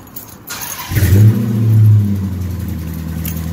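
A 2012 Dodge Challenger R/T with straight pipes fires up by remote start, a loud close burst of engine roar that swells into a rev and settles into a deep, rumbling idle.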